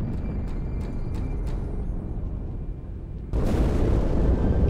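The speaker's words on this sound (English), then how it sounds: "That explosion from inside the Athens, same as the Malta." A deep rumbling explosion from inside the Athens in Halo 2 on Cairo Station sets in abruptly partway through, a loud low-frequency blast over a steady sci-fi background hum with faint pulsing tones.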